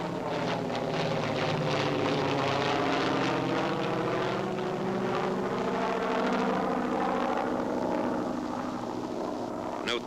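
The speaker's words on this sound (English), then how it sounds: "Note the takeoff of the PBY before the glider." A PBY flying boat takes off towing a CG-4A glider, its propeller engines droning loudly and steadily throughout, with a sustained harmonic whine that shifts slowly in pitch.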